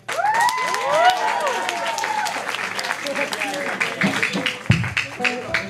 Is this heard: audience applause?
yes